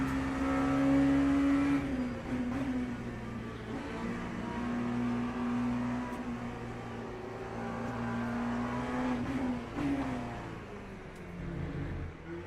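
Porsche sports cars on a racetrack, a steady engine drone with a held tone that shifts pitch as revs change, continuous and moderately loud from within a car, with no voices.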